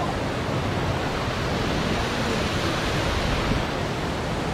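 River water rushes steadily past a traditional Himalayan water mill (gharat), a dense, continuous roar heard close up and alone, with no voices over it.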